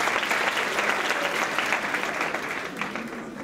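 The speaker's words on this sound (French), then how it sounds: "je demanderai à nos chers élèves de bien applaudir et de les remercier" Students at a school event applaud guest speakers, a steady, dense clapping that fills the room for a few seconds and fades slightly toward the end, with no voices over it.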